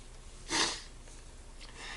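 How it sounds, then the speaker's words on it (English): A single short, wet nasal sniffle sounds close and clear for about a quarter second, then quiet room tone with a faint second sniff near the end. "Excuse the sniffling."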